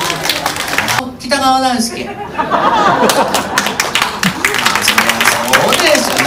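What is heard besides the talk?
audience applause at a concert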